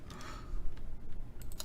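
Keys on a computer keyboard click in scattered, fairly faint taps against a low rumbling room background, with a cluster of sharper strokes near the end.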